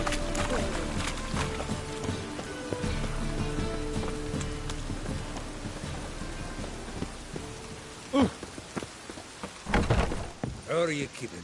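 Steady rain in The Witcher III video game, a soft hiss of falling drops under in-game music, followed by a character voice talking toward the end.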